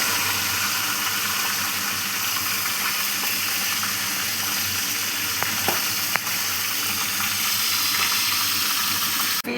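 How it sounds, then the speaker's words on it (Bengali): Fish heads fry in a pan with a steady, dense crackling sizzle, close and continuous, with a few sharper pops and spatters. "প্রথমে তো আমি মাছের মাথাগুলো ভালো করে ভেজে নেব"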